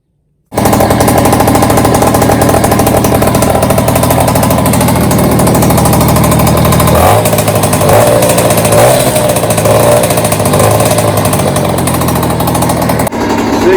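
A Peugeot 103 Chrono moped engine fires up abruptly and runs loud and close, a harsh rapid two-stroke buzz that drops to a lower idle partway through before cutting off near the end.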